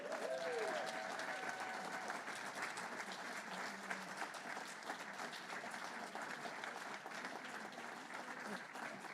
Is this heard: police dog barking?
no